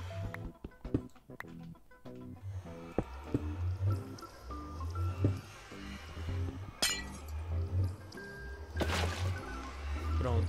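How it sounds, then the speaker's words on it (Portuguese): Blocks being placed in Minecraft while building an infinite water source give a series of soft clinks and clicks at an irregular pace, over a steady watery game ambience with no talk. "Fiz a fonte infinita de água."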